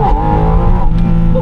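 A naturally aspirated 4-litre Porsche 718 Spyder RS launches hard from a standstill, its engine note climbing loud and close in one short burst of acceleration.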